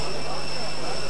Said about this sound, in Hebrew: מטוס הג'מבו האחרון של אל על עומד לעזוב עכשיו את נמל התעופה הבינלאומית של אדיס אבבה